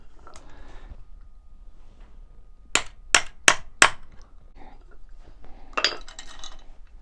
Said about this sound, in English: to split the chain I'm just going to use a punch to punch the pin out